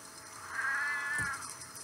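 A cat meows in the survival-shelter video game Sheltered: one drawn-out, fairly loud cry that rises and then fades over about a second, with faint clicky background ambience around it.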